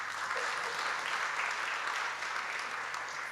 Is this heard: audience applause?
yes